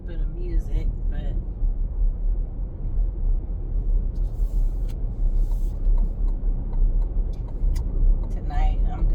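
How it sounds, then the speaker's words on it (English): Steady low car rumble from inside a vehicle cruising at night, a continuous drone with road noise and a few faint clicks and higher hisses drifting over it. "tonight I'm gonna just listen to the car"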